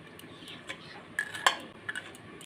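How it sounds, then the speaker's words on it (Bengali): A metal lid comes off a cooking pot in a Bengali village kitchen during preparation of a vegetarian paneer and potol dish, giving a few light clinks and one brighter ringing tap over quiet background. "আমি ঢাকনাটা তুলে নিলাম।"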